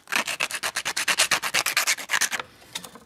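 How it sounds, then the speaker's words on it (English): Sandpaper sanding a camera mount for a simple FPV pod build: about twenty fast, rhythmic back-and-forth rubbing strokes, loud and close, then a brief quieter pause and a couple of lighter strokes. "just give it a hit with sandpaper"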